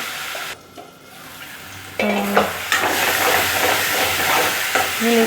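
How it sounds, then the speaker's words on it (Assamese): Ingredients for an ethnic immunity-boosting dish cook in a pan, a close, loud sizzle and hiss with intermittent stirring scrapes that grows fuller partway through. "এতিয়া এইখিনি ভালকৈ অলপ সিজালৈ বাট চাব লাগিব, অলপমান সিজক।"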